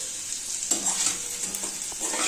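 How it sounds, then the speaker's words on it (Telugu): Ridge gourd pieces and gram flour fry in hot oil in a pan. A steady close sizzle carries on throughout, broken by a few soft stirring scrapes and knocks, with no talking. "ఈ నూనెలో బీరకాయ తీసిన నూనెలోనే ఇదంతా వేయించుకోవాలి"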